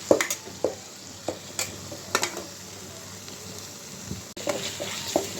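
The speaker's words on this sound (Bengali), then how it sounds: "আলুটা আমি মশলার সাথে ভেজে নেব ভালো করে।" Potatoes fry with spices in a pan, a steady sizzle broken by scattered scrapes and knocks of a spoon stirring through them.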